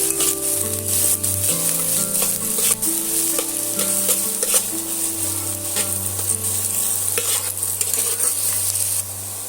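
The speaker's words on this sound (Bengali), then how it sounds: "পেঁয়াজটা দিয়ে আমি সুন্দর করে একটু লাল লাল করে ভাজা করে নেব" Loud, steady sizzling of onions frying in hot mustard oil, with scraping and stirring sounds from a spatula against the pan throughout.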